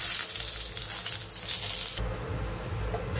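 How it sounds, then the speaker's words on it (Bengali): Nigella seeds and a dried red chili fry in a little oil in a kadai as a tempering for rohu fish in poppy seed paste. The oil gives a dense, steady sizzle that sharpens into a brighter crackle partway through, with no voices. "কড়াইয়ে আবার অল্প করে তেল দিয়ে দিচ্ছি, কালো জিরে ফোড়ন দিয়ে দিচ্ছি, একটা শুকনো লঙ্কা ফোড়নটা একটু ভেজে নিচ্ছি।"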